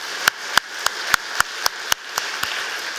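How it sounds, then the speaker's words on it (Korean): A church congregation claps in praise during a Sunday worship service, with sharp claps in a steady, evenly spaced rhythm that fade slightly toward the end over a room hiss. "하나님께 감사와 찬양의 박수를 드립시다."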